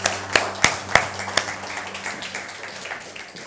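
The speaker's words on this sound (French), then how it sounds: "Est-ce qu'on peut donner une bonne main d'applaudissement au groupe de louanges?" A church audience claps for the worship band, a few sharp claps at first, then softer scattered clapping that fades, with a low steady hum beneath and no talk.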